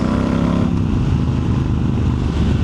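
A motorcycle engine idles loud and close after an air filter and spark plug change, a dense steady low rumble with a fast even throb throughout.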